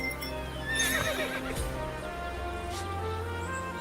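A horse in Dynasty Warriors Origins gives a loud, clear neigh with a shrill whinny that falls in pitch, followed by a faint clip-clop of hooves and a low background drone.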